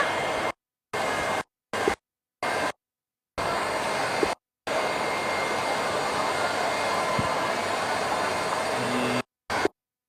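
An electric mixer whisks batter for a palmboom cake during a baking demo. It runs in loud, steady whirring bursts broken by short pauses, then holds one long continuous run.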